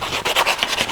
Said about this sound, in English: I'm just gonna kind of sand where I cut, round it off.